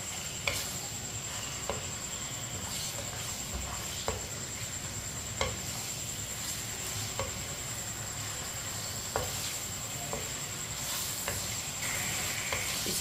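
Bone-in goat meat in large pieces stirred into a pot with a spoon, a steady low sizzle with periodic scraping taps, close, alone without talk.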